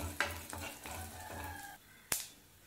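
Crushed garlic, fennel seed and coriander sauté briefly in a hot pan for a crispy baby potato fry, with soft sizzling under several spoon stirs and one sharp scrape near the end.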